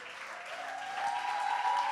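A church congregation claps for the choir after its performance, the applause building steadily and growing louder with no voices on top.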